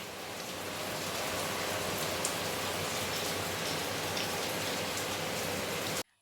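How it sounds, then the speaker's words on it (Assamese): Heavy rain pours down in a steady, dense hiss that holds constant throughout, then cuts off abruptly at the very end. "বহুত বৰষুণ দিছে। চাওক কিমান বৰষুণ দিছে।"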